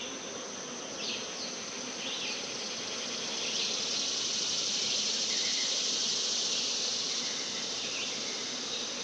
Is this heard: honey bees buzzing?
yes